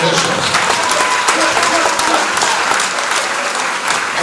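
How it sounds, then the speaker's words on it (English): A gym crowd at a high school game applauds both teams, coaches and officials, with steady, dense clapping that fills the whole stretch at an even, loud level. "we invite you to stand and give a round of applause to both teams"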